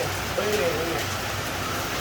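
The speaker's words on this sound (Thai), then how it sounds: "ฝนตกเฮงครับ" Steady rain falls outdoors at night, a continuous even hiss of drops filling the background, while someone talks over it.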